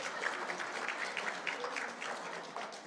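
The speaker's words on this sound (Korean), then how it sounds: "이게 특별히 박수 한번 해줘야 됩니다" A church congregation claps during a service, an even, moderately quiet round of applause from many hands that continues steadily throughout.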